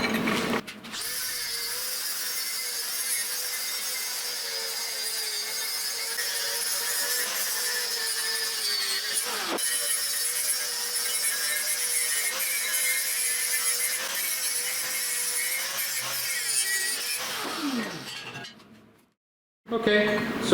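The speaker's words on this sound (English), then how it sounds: "Now we're gonna clean up the edges and knock some of this slag off" Steady metallic scraping and grinding on plasma-cut steel gearbox mounts for a sprint car rock crawler, clearing slag and dross from the edges, continuous and close for most of the stretch before tailing off into a brief silence.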